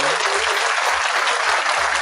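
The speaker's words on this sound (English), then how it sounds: "Give Darryl a round of applause." A crowd applauds continuously at a steady, dense level, loud and close, with no distinct voices over the clapping.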